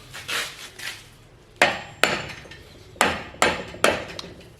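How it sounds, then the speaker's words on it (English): A rubber mallet whacks a steel body hammer head onto its tapered wooden handle in a workshop, giving about six sharp, loud knocks with short ringing decays at an irregular pace, with softer tapping at the start. "So I'm just using a rubber mallet"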